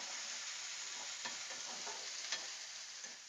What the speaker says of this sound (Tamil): ஸோ நல்லா இது வதங்கட்டும்.